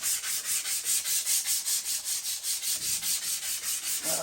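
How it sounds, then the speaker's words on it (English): Steady back-and-forth sanding with lead oxide cloth sandpaper on the underside of a wooden piece of hickory and plum, an even rhythmic scrubbing of about two strokes per second, close and continuous with no talking. "we'll just take a piece of this here lead oxide cloth sandpaper, and we'll just sit here and sand away until we get the profile that we want."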